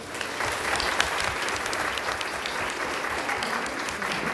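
An audience at a diversity-in-media conference applauds steadily as a speaker comes to the microphone, producing an even, continuous wash of many hands clapping.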